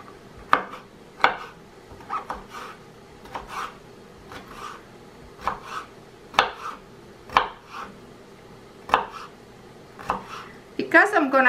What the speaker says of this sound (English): Usually pickles is a tricky thing to cut because skin kind of hard